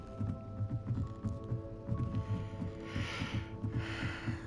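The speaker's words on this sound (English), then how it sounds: "Horse." Horse hooves clip-clopping in the game Hogwarts Legacy, a quick regular patter of muffled beats over a low hum, with a whooshing swell near the end.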